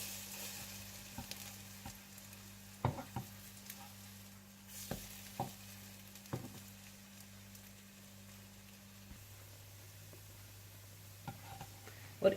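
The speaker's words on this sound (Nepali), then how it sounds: "और इसी तरह से आप सारे स्लाइसेस को फ्राई कर लीजिएगा।" French toast slices fry in a pan with a faint, soft sizzle, broken by a few sharp clicks and taps from turning or handling, under a low steady electrical hum.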